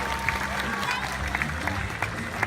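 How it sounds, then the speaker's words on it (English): Audience applause and crowd noise fill a tiger show at Six Flags Discovery Kingdom, a dense, steady wash of clapping for the performing tiger Aasha, with voices mixed in. "How about a round of applause for Aasha?"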